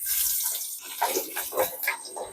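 A steady, fairly loud sizzle of pieces frying in hot oil, with a few soft clattering knocks mixed in.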